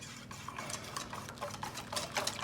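Someone quietly stirs a magic cake batter of eggs, sugar and flour in a bowl, giving soft, repeated scraping and tapping strokes in an uneven rhythm, close by.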